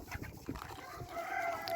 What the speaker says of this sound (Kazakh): Қазақ тауықтары бар.